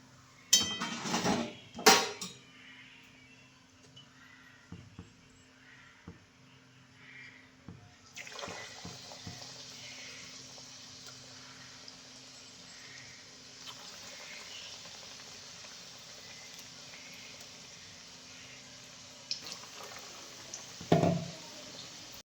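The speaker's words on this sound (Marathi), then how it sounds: "असंच आता सगळं वडं तळून घेते" Batata vadas deep-frying in hot oil, with a steady broad sizzle that fills the second half after a few clattering knocks and bumps at the start and a louder clunk near the end.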